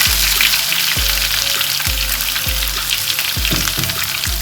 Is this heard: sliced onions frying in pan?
yes